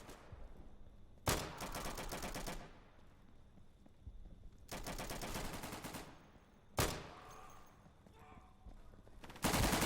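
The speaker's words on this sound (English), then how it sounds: "everybody's getting killed by Tommy guns today" Bursts of Tommy gun fire in the video game Insurgency, long rapid automatic volleys separated by short gaps, loud and close, with a faint voice briefly underneath.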